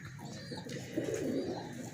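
A Sialkoti pigeon coos softly and close by, a low throaty burble in the second half, over faint background hiss with no talking.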